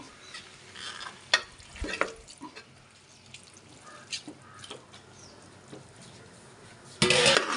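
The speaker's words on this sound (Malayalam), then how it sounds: "ഇനി നമുക്ക് ചിക്കൻ ഇട്ട് കൊടുക്കാം." Chicken going into a pan of frying onions and being stirred, with a soft sizzle under scattered scraping and clattering, then a sudden loud burst of sizzling near the end.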